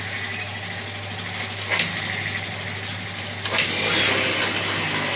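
A TVS XL Super heavy-duty moped engine idles steadily just after being refitted, a close, even mechanical putter with a slight rise near the end and no talk.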